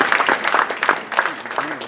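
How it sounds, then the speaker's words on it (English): Brief burst of audience applause for a speaker at a business talk on mergers and acquisitions, a quick flurry of close hand claps lasting under two seconds. "Please round of applause for Basil."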